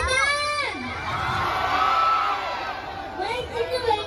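A crowd cheers and shouts at the Ghorahi Mahotsab festival, a dense, loud roar with whoops and high children's yells rising throughout, and a voice speaking over the noise at the start and end.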